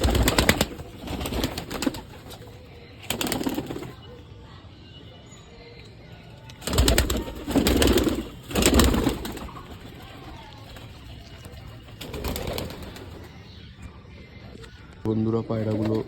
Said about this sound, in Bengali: পায়রাগুলো উড়ছে